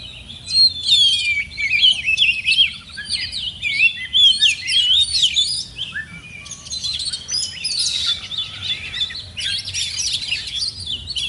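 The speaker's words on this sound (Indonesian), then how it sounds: "Ini contohnya teman-teman bisa mempunyai gambaran kacer pas pada saat digantangkan dia dominan birahi." Oriental magpie-robin (kacer) in over-breeding, aggressive condition singing continuously from a hanging cage, a rapid stream of shrill whistles and chattering phrases, loud and close with no voices.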